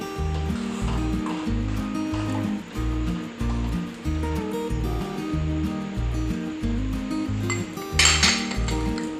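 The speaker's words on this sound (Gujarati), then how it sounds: "સરસ રીતે બધું મિક્સ કરીને હલાવી લઈશું" A spoon scraping and clinking against a metal pot while stirring sabudana kheer with cardamom and nutmeg powder, steady rhythmic strokes over background music, close and clear.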